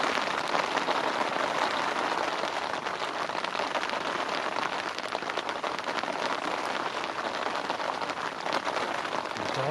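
Steady rain falls on a carp syndicate lake bank at night, a dense, even hiss of drops spread across the whole clip with no pauses and no voices.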